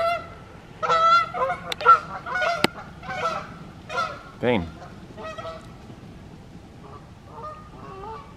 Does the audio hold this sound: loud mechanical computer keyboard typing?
no